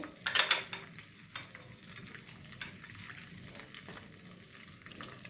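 Small mixed fish fry in an iron wok, giving a soft, steady sizzle opening with a brief louder burst of spatter, then settling into quiet crackle with faint stirring scrapes.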